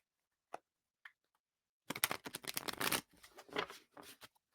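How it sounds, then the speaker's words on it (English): A few faint soft flicks, then a couple of seconds of dense riffling as tarot cards are shuffled, followed by softer sliding and tapping of the cards, close by. "Try not to shuffle too loud next to the microphone."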